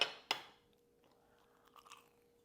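Two sharp, crisp bites into pan-fried dumplings with crunchy bottoms crack loudly and close together, followed by quieter wet chewing.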